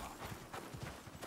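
Horse hooves clip-clopping in the video game Icarus, a quick run of hoofbeats close by, steady and fairly loud with no voices.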